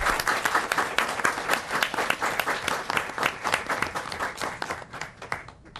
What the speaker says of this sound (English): it may be appropriate for the first round of applause for Chief Eskridge.